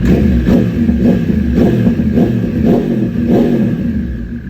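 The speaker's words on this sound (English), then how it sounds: "This is B mode throttle input." Superbike engine with an SBU ECU upgrade revving hard in B throttle mode, a loud close series of about seven sharp throttle blips in a steady rhythm over a constant rumble.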